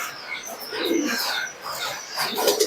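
Pigeons coo softly and repeatedly from a tin rooftop, a few nearby birds producing low murmuring calls with brief breaks between them.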